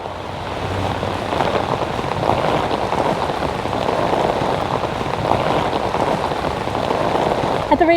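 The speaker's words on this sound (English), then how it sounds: "if we keep getting this heavier rain in this short amount of time" Heavy rain pours down on a busy street during a storm, a loud steady roar of drops striking pavement and water, continuous and dense, with a faint voice briefly under it.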